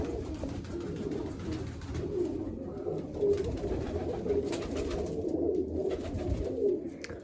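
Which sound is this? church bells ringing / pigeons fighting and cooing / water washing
pigeons fighting and cooing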